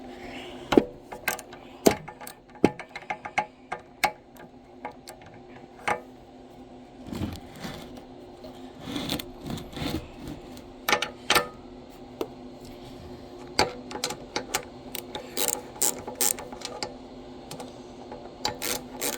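Metallic clicks and ratcheting ticks in irregular bursts come from a ratchet wrench working bolts loose on a Chinese diesel engine while the injector pump is being removed, fairly quiet and close.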